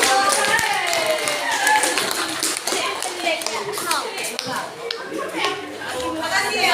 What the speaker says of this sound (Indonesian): Silakan beri tepuk tangan untuk